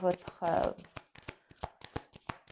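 Cards shuffled for a Petit Lenormand tarot reading: a quick run of crisp riffling and tapping bursts, close and fairly loud, with a voice speaking over the start.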